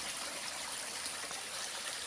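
Clear water from a dam supply flows in a steady, faint, hissing stream with no change in level throughout and nobody speaking.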